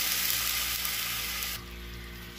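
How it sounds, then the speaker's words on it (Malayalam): Sugar and water in a hot pan for an arrowroot apple pudding give off a steady, close hiss, dipping slightly partway through, with no voices. "ഒരു പാൻ ചൂടായതിന് ശേഷം 2 ടേബിൾ സ്പൂൺ ഷുഗർ ഇടുക."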